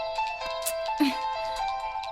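A mobile phone ringtone plays steadily in a Telugu film scene, a bright electronic melody with sustained tones running throughout the short stretch at moderate loudness, with no talk over it.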